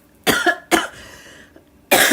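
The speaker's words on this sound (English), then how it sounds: "And that just made me cough." Three sharp, loud coughs close by, two in quick succession and a third after a short pause, with a faint raspy breath between them.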